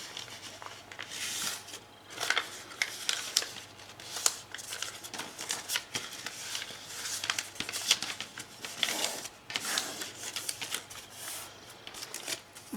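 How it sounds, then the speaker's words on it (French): Paper being folded accordion-style, a quiet run of crisp creases and crinkles with soft rustling between them, close and irregular, and no talking. "j'ai en fait plié en accordéon, tout simplement"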